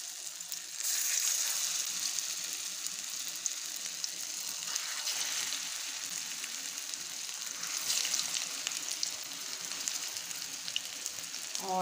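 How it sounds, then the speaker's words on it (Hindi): Aloo besan tikki shallow fry in hot ghee over medium heat, a continuous hiss and crackle of sizzling that swells at moments, close and steady without speech. "ये जी इसको हम हल्का सा गर्म कर लेंगे और टिक्कियों को हमने शैलो फ्राई कर लेना है।"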